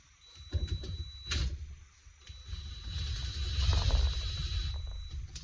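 Head bolts on a Yamaha Raptor 350 are snugged down with a ratchet, close metallic clicks and short grinding turns in uneven bursts, with a low hum underneath.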